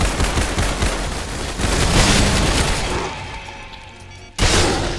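Gunfire in the horror game Anomalous Activities, a loud dense barrage of rapid shots that swells, tails off into a fading rumble, then ends with one sudden heavy blast.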